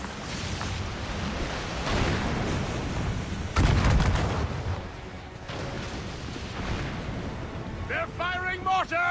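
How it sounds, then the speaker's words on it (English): Mortar and cannon fire from warships at sea in Assassin's Creed Rogue, booming heavy blasts, one especially loud burst near the middle, over a constant roar of waves and ship noise, with brief game voices toward the end. "They're firing mortars!"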